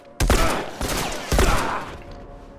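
Gunfire in The Last of Us, three sharp loud shots spaced roughly half a second apart, each with a ringing echoing tail, close and alone.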